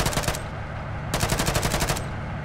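Two rapid bursts of automatic gunfire in the Arma 3 video game, each lasting under a second with a brief gap between them, loud and close against a steady background rumble.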